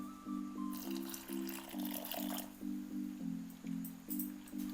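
Flour dough being kneaded with added water for colorful Bengali luchi, giving soft rhythmic squelches about twice a second, steady and close, with no talking.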